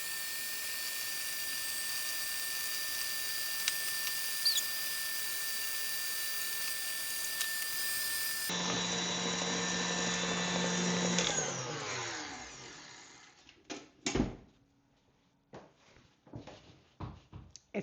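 A KitchenAid stand mixer's whisk beats cake batter as egg is added, a steady motor whir that shifts pitch midway, slows and stops, followed by scattered clinks and knocks.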